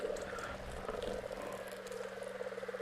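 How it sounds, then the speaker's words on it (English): Many frogs croak in a foggy marsh, a dense continuous chorus of rasping, ratchet-like calls at moderate distance, steady and fairly faint throughout. "I'm hearing all sorts of frogs."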